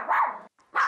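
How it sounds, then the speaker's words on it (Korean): A dog barks two quick, sharp times at visitors arriving indoors, loud and close, with a short pause between the barks. "보통 손님들 오면 이렇게 좀 많이 짖고."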